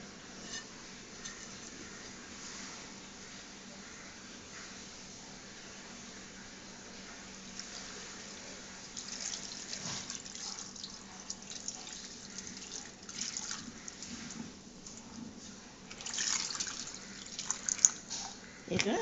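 Water is poured into a pot of nethili dry fish and tomato curry on the stove, a soft, faint trickle and splash over quiet room noise that builds slightly toward the end.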